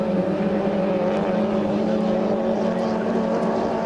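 Racing boats of the 2.5-litre class in a heat at St-Félicien roar steadily across the water, one continuous loud engine drone that stays close and even throughout, with no breaks or gaps and no talk over it.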